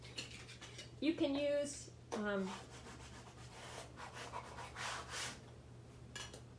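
Paper is rubbed down by hand onto a mini album page with soft, scratchy strokes, while a voice speaks briefly at the start over a low steady hum.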